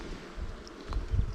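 Honeybees in an opened hive during a colony inspection for mites among capped brood frames, giving a faint, low, steady hum with soft rustling throughout.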